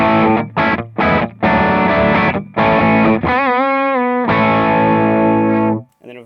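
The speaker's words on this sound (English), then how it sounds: "So let's start just on the blues breaker setting here." Electric guitar played through a Keeley 4-in-1 distortion pedal on its Blues Breaker setting: loud, driven chords struck in short bursts, then sustained notes with bends and vibrato ringing out before a final brief stab.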